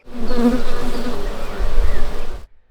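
Bees buzz loudly and close by at an apiary, a dense overlapping hum that swells and wavers for a couple of seconds before stopping.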